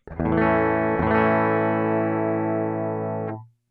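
A single strummed electric guitar chord rings out clean and sustained for about three seconds with the Ruby and Dream pedals switched off, restruck once early, then fades quickly.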